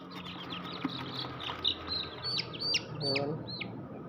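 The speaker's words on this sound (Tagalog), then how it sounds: "Ito yung mga native chicks." Young aseel shamo and native chicks peep in quick, high chirps and short rising calls, scattered and close but fairly soft, over low background noise.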